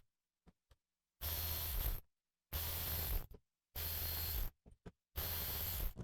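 Bolts are run out of the casing of an MME Motorsport sequential shifter with a power tool: four loud, roughly one-second bursts of whirring noise, separated by silence and a few small clicks.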